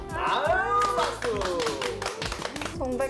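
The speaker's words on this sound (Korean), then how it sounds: "아유 박수!" A small audience clapping for a middle-school student introducing herself at an alternative school, quick hand claps mixed under loud, lively talking and laughter.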